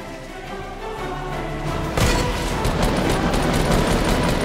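A grenade launcher fires in Fortnite Battle Royale, sending a burst of booming, crackling explosions that erupt about halfway through and keep rattling loudly after a quieter buildup.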